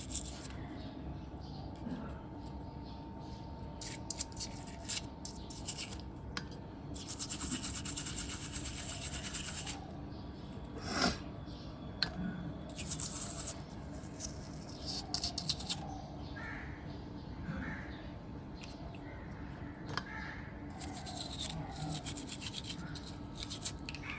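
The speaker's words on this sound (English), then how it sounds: "I am taking a toothbrush to rub off the dirt from the faucet aerator" A toothbrush scrubs dirt off a faucet aerator, producing faint, close, continuous scratchy brushing strokes with uneven bursts of rubbing throughout.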